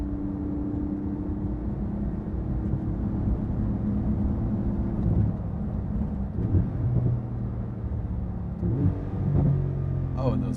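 A Porsche GT2 RS engine rumbles and revs steadily at close range, with a few sharp exhaust crackles near the end; a voice talks faintly underneath.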